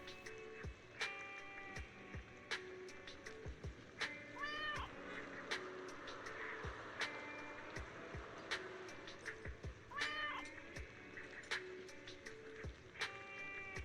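A cat meows several times, the calls fairly faint and spaced out over a steady background of small ticking and clicking sounds, with no clear talking.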